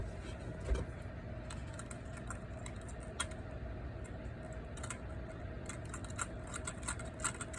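Typing on a computer keyboard: scattered key clicks and taps, sometimes in quick bursts, fairly faint over a steady low background hum.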